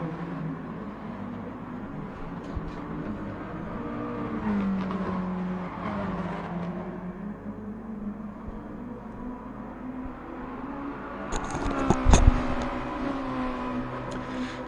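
Mazda race cars on worn tyres lapping Tsukuba in Gran Turismo Sport, a steady mix of engine drone and shifting pitch sweeps from several cars, with a sharper, louder burst near the end.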